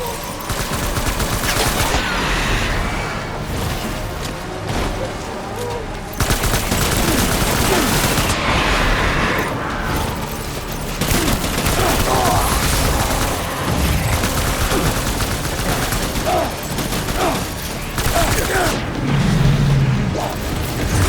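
Sustained gunfire in the video game Death Stranding, dense overlapping rifle and machine-gun bursts with booms, loud and continuous throughout with little pause, under a busy mix of game effects.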